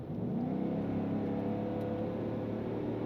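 A 2026 Ford F-350 Super Duty pickup's 7.3 engine hums and revs steadily nearby, a low, grunty drone with a faint whine on top, no voices.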